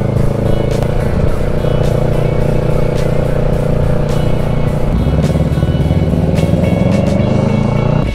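A loud motorcycle engine runs steadily and close throughout, a constant droning rumble with some mechanical clatter during a group breakfast ride to Subic Bay.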